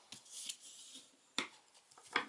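Burnishing a folded paper card insert by hand: soft, dry rubbing strokes with a few sharper scrapes and taps, close and quiet, no voices.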